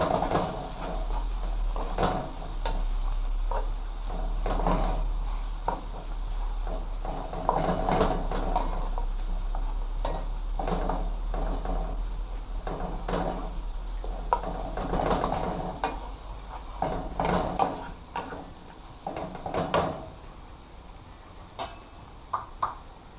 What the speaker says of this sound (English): we're going to stir all these together now. It's like we are stir frying.